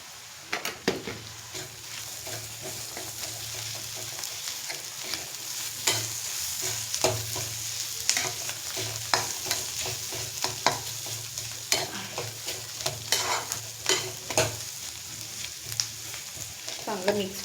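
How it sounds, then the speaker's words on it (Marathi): Kolhapuri masala being stirred in a hot pan with frequent scraping strokes over a steady sizzle of frying, close and fairly loud throughout, with a few sharper clinks of the spoon against the pan. "चांगलं मिक्स करून घेते आधी मसाला."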